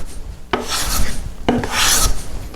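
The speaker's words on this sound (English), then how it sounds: "Taking smoothing cuts." A wooden hand plane takes smoothing cuts on a board, two separate rasping strokes, each opening with a sharp bite and then a long shearing hiss, close and clear with no talking.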